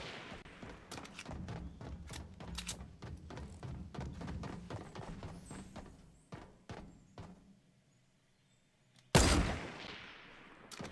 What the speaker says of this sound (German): Wir schießen einfach mal.